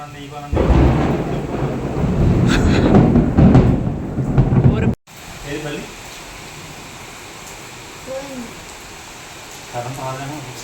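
Heavy rain roars loudly with rumbling thunder for about five seconds, then drops abruptly to a softer steady downpour with faint voices talking in the background.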